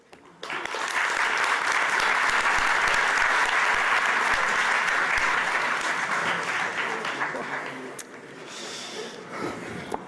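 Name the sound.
applause for debate panellists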